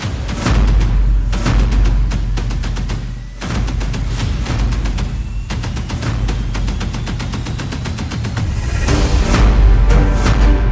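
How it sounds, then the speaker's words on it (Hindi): Dense, loud barrage of rapid blasts and cracks with deep rumbling booms underneath from an explosion in a Tehran street among cars stopped at a red light, continuous and chaotic throughout, like heavy gunfire and explosions nearby. "तेहरान में ये धमाका और रेड लाइट पर खड़ी कारों के उड़ते हुए चीथड़े।"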